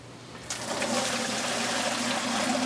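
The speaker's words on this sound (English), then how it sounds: "Okay, take this and we're going to dump it through a strainer." Beeswax slurry pours slowly through a strainer, a steady wet rushing and trickling that runs continuously close by at moderate level, alone without talk.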